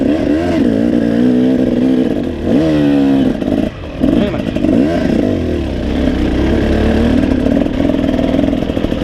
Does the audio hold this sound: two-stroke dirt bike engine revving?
yes